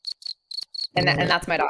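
A cricket sound effect played from a Discord soundboard gives four short, bright chirp bursts in a quick, even rhythm, then a person starts talking.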